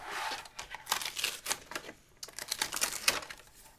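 An electronic cutting machine slicing a decorative border into a chipboard album page gives off a busy, irregular run of close mechanical clicks and scratchy rasps, with a short pause midway before the cutting resumes.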